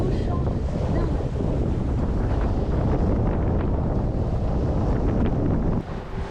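Strong 27-knot wind buffets a sailboat at sea, a loud continuous roar of gusts against the microphone with water rushing beneath, steady throughout the clip.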